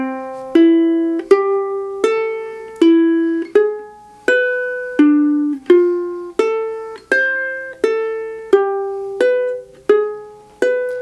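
A ukulele plays a walking bass line built on chord tones, a steady sequence of about fourteen plucked notes, one every beat or so, each ringing and decaying, close and alone with no talk.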